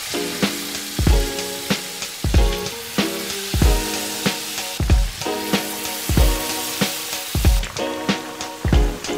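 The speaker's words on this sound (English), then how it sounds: "His wife is preparing delicious traditional Yakutian fried pancakes." Traditional Yakutian pancakes fry in a pan, a steady sizzle broken by a regular series of sharp clinks and scrapes, roughly one per second, close and fairly loud.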